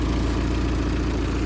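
A Peugeot 206cc idles steadily with a blowing exhaust, its low continuous engine rumble and rhythmic pulsing close and unbroken, with no voices over it.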